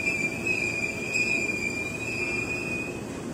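A Tokyo Metro 6000 series KRL train, eight cars, rolls steadily into Depok station at night with a sustained high metallic squeal over a low rumbling drone, continuous and fairly loud throughout.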